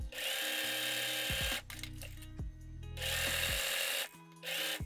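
A sewing machine stitches darts in dress fabric, with the motor's whir running in two long, steady stretches separated by a pause full of nearby handling clicks and rattles.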